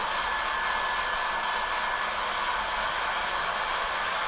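A hair dryer blows steadily to heat a paddle during assembly, producing a constant, loud, even whoosh with no voices.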